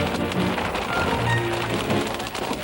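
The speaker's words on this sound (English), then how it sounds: "The rain and hail pick up again." Rain and hail pound steadily on a vehicle during a storm chase with tornadoes nearby, a dense, continuous roar with no voices.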